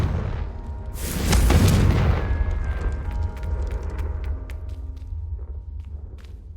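A Confringo explosion spell goes off in Hogwarts Legacy, a loud booming blast that swells and rolls for a second, then trails off into a low rumble with scattered small crackles and clicks.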